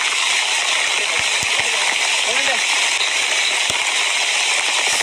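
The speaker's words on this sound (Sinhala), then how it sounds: "වහිනවා මාර විදියට." Steady, dense hiss of heavy rain pouring without a break, with a few sharp drips and taps standing out near the microphone.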